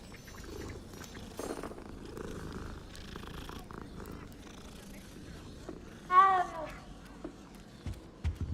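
A cat purring in the video game Hogwarts Legacy, a soft low rumble under game ambience, followed near the end by a brief rising meow-like call.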